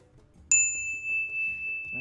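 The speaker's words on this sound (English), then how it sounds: "And a bell." A single bell rung during a blessing ritual strikes once sharply and then rings on as a long, steady, clear tone that sustains to the end.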